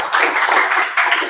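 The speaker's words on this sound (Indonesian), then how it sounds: "tepuk tangan untuk kita semua" Brief applause from a group in a class session, a dense patter of clapping that lasts about a second.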